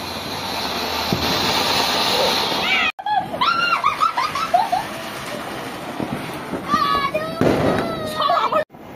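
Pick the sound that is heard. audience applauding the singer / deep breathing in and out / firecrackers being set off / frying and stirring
firecrackers being set off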